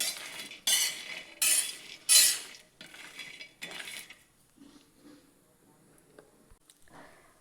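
Peanuts stirred while dry roasting in a pan over medium-low heat, several loud, rhythmic rattling scrapes of nuts tumbling against metal, then quieter occasional shuffles as the stirring slows.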